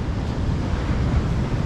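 Steady roar of surf and wind buffeting the microphone at Trisik Beach, Kulon Progo, Indonesia, a dense continuous rush with no distinct wave breaks.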